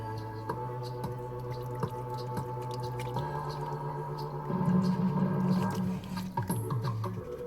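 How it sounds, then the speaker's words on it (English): Hot water pours into a cup of Shi Zu Ren spicy vegetarian vermicelli instant noodles, a steady close trickle that thickens into a fuller gush near the end, with a few drips and small splashes along the way. "I'm pouring it in. Here we go. Gonna pinch the side of the cup, make more of a spout, slight spout."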